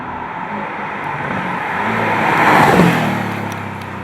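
Engine of a new Porsche Boxster S with a turbocharged motor, a steady droning hum that swells into a rising rev around the middle before easing back, heard alone without talk.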